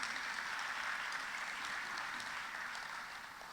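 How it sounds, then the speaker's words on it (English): An audience at a national cybersecurity challenge event gives a round of applause, a quiet, even wash of many hands clapping that stays steady and slightly distant before easing off. "Another round of applause."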